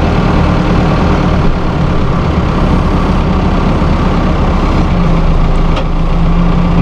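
A 2001 New Holland TL100 utility tractor idles loudly nearby with a steady low diesel rumble while its loader lowers, hydraulics faintly whining under the engine; no one speaks.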